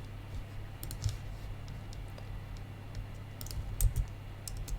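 Computer keyboard typing, scattered light clicks and a couple of firmer keystroke clusters, close but quiet over a low steady hum.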